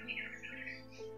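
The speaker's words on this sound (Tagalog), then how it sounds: "Uwak yan." A crow gives a single brief, harsh caw, heard faintly at a distance with no talking over it.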